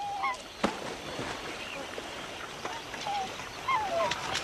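Water birds at a new lake in the Australian bush call in short, nasal honks and quacks at a distance, a few scattered cries over a soft outdoor background hiss.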